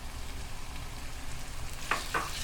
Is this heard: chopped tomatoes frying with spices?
yes